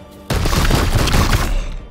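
A psy cannon shot in the Warhammer 40,000: Chaos Gate - Daemonhunters video game, a sudden loud blast that opens into a dense, crackling roar of rapid bursts for about a second and a half before tailing off.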